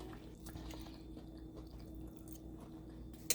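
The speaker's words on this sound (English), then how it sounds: "let's give the cauliflower a taste" Close, quiet chewing of a bite of cheesy cauliflower casserole with garlic, onion and scallions: soft, moist squishing mouth sounds and a small sharp click near the end, without speech.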